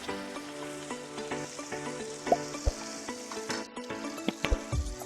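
Small pieces of fish frying in oil in a pan for pona macher paturi, a steady close sizzle broken by sharp pops and spatters, with clinks of a utensil near the end.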